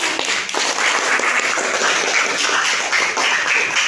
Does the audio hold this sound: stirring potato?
no